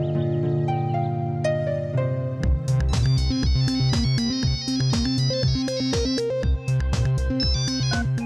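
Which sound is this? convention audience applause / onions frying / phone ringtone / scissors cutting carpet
phone ringtone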